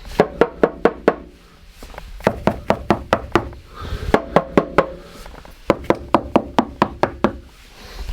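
Bursts of dull knocks on a Subaru STI floor panel covered in sound-deadening mat, four or five quick raps per group with short pauses between, close and muffled.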